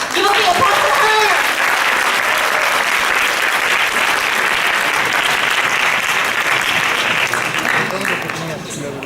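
A conference audience applauds to welcome a speaker to the stage, a loud, dense wash of clapping that fills the room steadily and fades slightly at the end.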